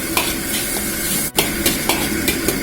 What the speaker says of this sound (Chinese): 然后放入葱姜蒜泡椒段，炒出香味